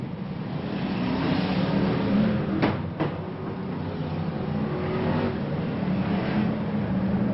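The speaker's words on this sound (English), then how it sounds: "Junior Wayman in 515 whistles down the home straight past Knight" BriSCA Formula 1 stock cars at a 1992 Boston race meeting roar down the home straight, a continuous loud engine drone with a sharp bang or two partway through and no commentary over it.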